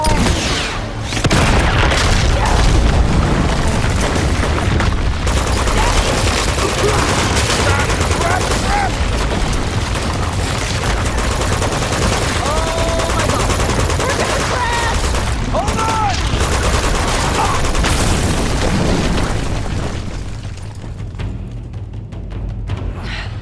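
Gunfire in the video game Uncharted: Among Thieves, dense loud bursts of automatic fire and booms throughout a chaotic firefight, with shouted voices mixed in before the noise fades at the end.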